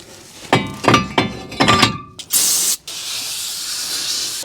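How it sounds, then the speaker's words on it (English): Brake cleaner sprayed onto a new front brake rotor for a 2002 Dodge Dakota SXT, a loud hissing burst of aerosol following several clinks and taps of metal parts being handled. "it's a good idea to hit that with some brake cleaner"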